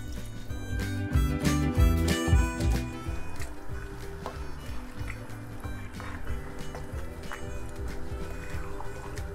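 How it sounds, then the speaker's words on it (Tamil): A tumbler of water tipped into a small pot of mutton kuruma in a caravan kitchen, splashing and gurgling up close, with a few sharp knocks early on, then a softer steady trickle. "1 டம்ளர் தண்ணி ஊற்றுறேன்"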